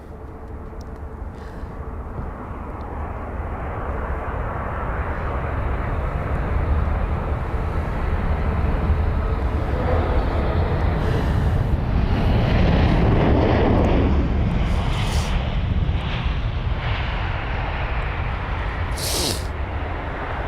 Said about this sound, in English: the last aircraft of the day to arrive at runway 27 right is this one here, the BA380.